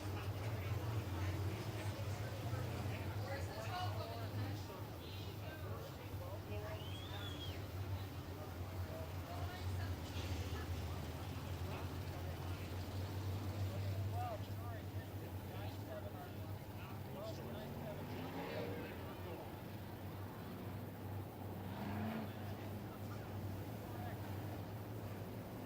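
Modified race cars circle a dirt oval track at a Midwest Modifieds feature, a steady engine drone and rumble filling the scene with wind noise, while a voice talks over the action throughout.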